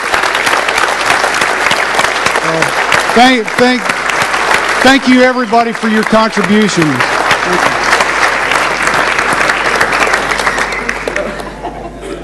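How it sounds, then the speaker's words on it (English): Steady, dense applause from an awards ceremony audience at the J and Beyond 2011 conference fills the whole stretch, with someone speaking briefly over it partway through before the clapping continues and slowly thins. "let's give everybody in the magazine team a round of applause"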